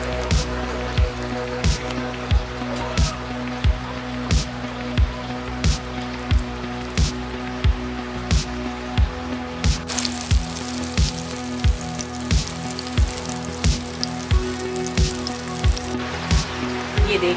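Chicken and green onion chapli kebabs sizzle steadily in hot oil, a dense crackling hiss with soft spattering pops throughout, close and fairly loud with no talk.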